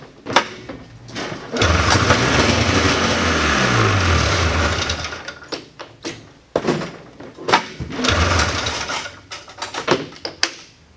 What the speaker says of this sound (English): she fires on starting fluid